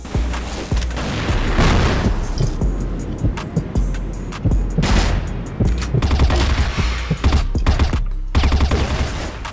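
A CrossFire firefight: a loud grenade boom, then sustained, dense bursts of automatic rifle fire that continue steadily at close range throughout, with no speech.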